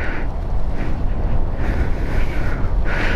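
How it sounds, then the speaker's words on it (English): Steady, loud wind roars and buffets the microphone on a Suzuki GSX-R750 motorcycle ride as a storm approaches, with broadband rushing noise and no talking. "the wind is picking up"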